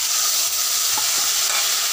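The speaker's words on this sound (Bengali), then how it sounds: "ছোলাটাকে আবার ভাজবো" Steady sizzling and crackling of chickpeas frying in a pan, with a brief stir partway through; no voices.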